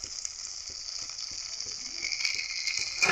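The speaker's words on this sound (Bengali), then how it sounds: "এবার এটাকে আমি ভালো করে কষিয়ে দেবো।" A spice mix of turmeric, chilli powder and Kashmiri chilli powder with beaten yogurt is sautéed in a pan, producing a faint, close frying crackle with a few soft stirring taps that grows slightly louder toward the end.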